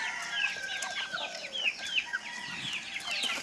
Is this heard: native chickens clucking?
yes